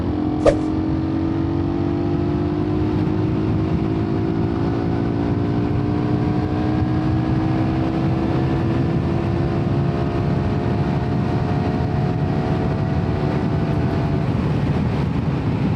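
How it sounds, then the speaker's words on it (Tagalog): A Suzuki Raider 150 motorcycle held at full throttle, its engine a loud, steady whine climbing slowly in pitch over about sixteen seconds, up close and without talk. "Full throttle in 3, 2,"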